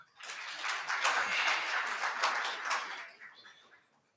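An audience at a launch event for a national code of practice for lifting-machine training providers breaks into applause, a dense wash of clapping from many hands that swells and then fades out over a few seconds.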